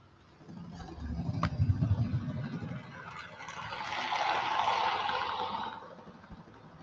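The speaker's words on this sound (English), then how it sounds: "Now you might hear some thundering sound. That's because my power car wheel just needs a little bit of cleaning on it." Bachmann Branchline Class 158 model train power car with a dirty wheel, giving a low, steady rumbling that swells and fades over several seconds, alone and close by.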